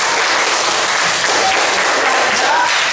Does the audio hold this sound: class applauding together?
yes